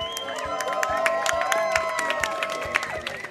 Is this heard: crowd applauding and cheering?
yes